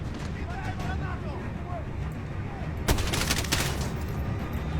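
Machine gun fire in the video game Modern Warfare (2019) erupts as a loud, dense burst of rapid shots partway through, following a stretch of voices talking over low battle ambience.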